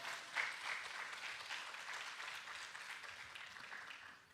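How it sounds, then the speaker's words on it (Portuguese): A church congregation applauds during a Sunday morning service, a steady wash of many hands clapping that stays fairly even and moderately loud throughout. "Pode aplaudir o Senhor Jesus nessa manhã."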